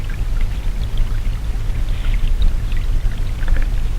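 Water pouring from a mill pond onto the large wheel of a working water mill, a steady loud rushing splash with a deep churning rumble that holds without a break.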